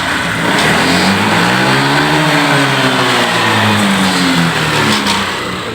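A Honda PCX scooter engine revs under throttle, its pitch climbing then falling and rising again in loud, close sweeps, with the motor running throughout and no speech.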